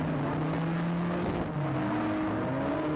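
Drift cars at a River City Drift event in Texas drone along steadily, engine tones holding and shifting as they slide sideways, heard from a distance under a constant wash of track noise.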